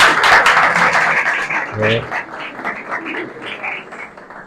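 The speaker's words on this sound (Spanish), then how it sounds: "creo que el aplauso es merecidísimo" Audience applause at a history lecture in Brussels, loud at first and then thinning and fading, with a brief voice breaking through in the middle.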